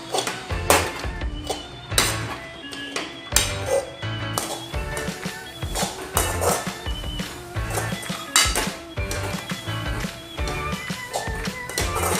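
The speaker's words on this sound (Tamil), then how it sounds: "நல்லா கிண்டி விடுங்க." A spoon scrapes and clinks against a pan while jaggery carrot halwa is stirred, close irregular metallic taps and knocks repeating throughout with no talking.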